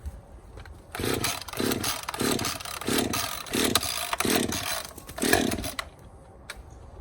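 A Husqvarna 550 XPG chainsaw being pull-started, with a run of rhythmic rope pulls and sputtering engine bursts before it catches briefly, loud and close, no talk.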